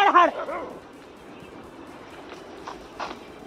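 A female dog near a farm pond on a field gives a couple of sharp close barks at the start, followed by quieter yips and whimpers amid faint background sounds.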